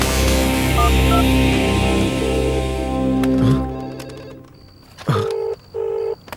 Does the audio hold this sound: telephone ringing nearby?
yes